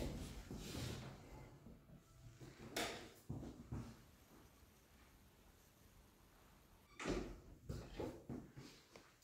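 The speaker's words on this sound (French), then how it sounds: "Je ferme de nouveau la porte." An interior door in a large renovated house is closed, with a few soft knocks and a latching thump, then quiet room noise and a second cluster of dull knocks later on.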